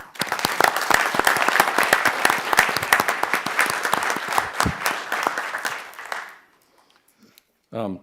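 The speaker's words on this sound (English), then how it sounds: "please give him a round of applause" A town council meeting audience gives a round of applause, dense and lively clapping for about six seconds that tapers off into silence before a voice briefly begins.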